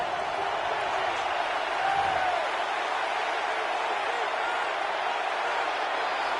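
A stadium crowd in the Madden 26 football video game roars as a loud, steady wash of broadband noise, with a faint swell of cheering partway through.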